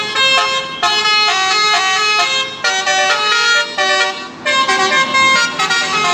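Loud musical bus horn of a Pandawa Herbi bus blaring in repeated melodic bursts with brief gaps, close and dominant with no talk.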